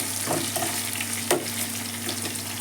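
Onions frying in oil in a pan with curry leaves, dal and green chilies give a steady, close sizzle that crackles throughout, with a brief clink of stirring partway through.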